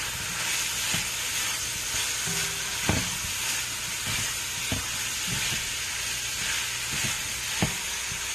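Paprika and cayenne being stirred into jackfruit stewing in tomato sauce, a close bubbling sizzle with repeated spoon scrapes and knocks against the pot at irregular intervals.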